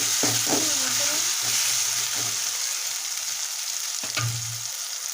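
Ginger garlic paste and onions frying in a pan for chicken curry, a constant bright sizzle with a few scraping, clattering strokes of a spoon stirring near the start and again toward the end.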